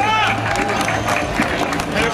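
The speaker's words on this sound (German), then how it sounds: "Ein Applaus, bitte." Carnival audience at an outdoor Fasching event clapping and cheering as a costumed pope figure is called onto the stage, a loud, busy crowd roar with scattered claps and shouts throughout.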